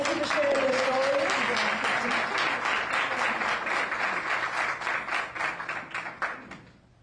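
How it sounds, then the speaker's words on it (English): An audience at a community college tuition announcement applauds students with dense, sustained clapping that thins into scattered claps before fading out. "I just want to applaud all of our students"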